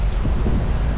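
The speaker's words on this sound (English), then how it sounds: "Windy, lots of dust blowing around, and now we've got some rain." Gusty wind roars loudly against the microphone outdoors in the Australian bush, blowing dust around, with rain falling and a heavy low rumble beneath.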